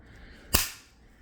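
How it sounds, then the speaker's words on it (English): A single sharp snap of a CGC plastic card slab splitting apart, one loud crisp crack that rings briefly and fades, alone in a quiet room. "And see, that snapped so easily."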